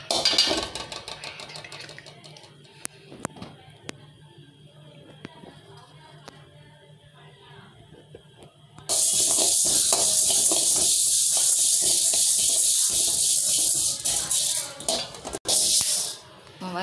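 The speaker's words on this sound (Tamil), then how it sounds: "முதல்ல நம்ம காணம் வறுக்க போகிறோம்" Horse gram dry-roasting in a pan, with soft scraping and stirring clicks that give way to a loud, steady rattling hiss of grains tossed over the heat. A voice talks over the start.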